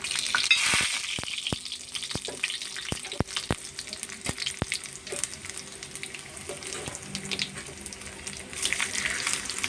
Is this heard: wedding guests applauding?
no